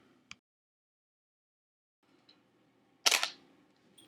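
Single-lens reflex camera firing its shutter at a 1/5 second exposure: a faint click, then a quiet pause, then one louder, crisp mechanical snap with a short rattle, heard close up in a quiet room.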